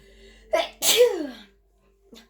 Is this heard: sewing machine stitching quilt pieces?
no